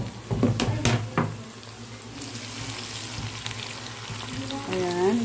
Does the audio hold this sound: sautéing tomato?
yes